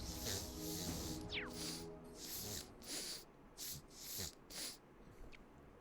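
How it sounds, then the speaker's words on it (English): Repeated wet sniffles from someone with allergies come close to the microphone in short bursts, several in a row, over a quiet background of soft game audio. "Apologies for so much sniffling"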